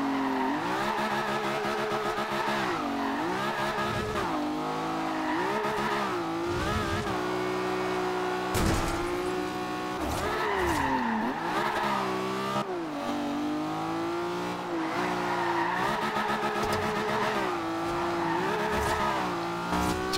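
A 725 HP 1969 Toyota 2000GT driven in the racing game Forza Horizon 2, its engine revving hard and rising and falling through gear changes, with tire squeal and skidding throughout, loud and continuous.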